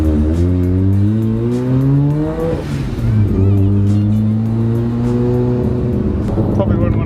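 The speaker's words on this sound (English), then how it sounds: "it's crazy to me how loud that idle is. The idle is like very prominent." A Mazda FD RX-7's engine runs with a loud, deep rumble, its pitch rising and falling as it revs, then settling back into a steady throaty idle.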